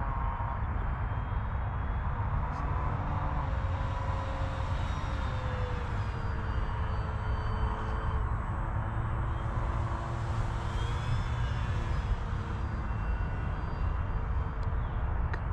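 An FMS P-47 Bonnie 1.5 m electric RC warbird flies at half throttle, a steady distant motor drone with a shifting whine as the plane passes overhead, heard alone over outdoor background.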